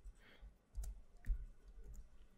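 A computer mouse clicked while setting up a new SCADA project, two or three soft, close clicks amid a low background hum, with no talking.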